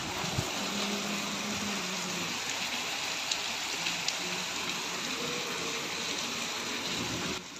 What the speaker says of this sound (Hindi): आज नया काम जो है अभी आपने देख लिया वो है बारिश।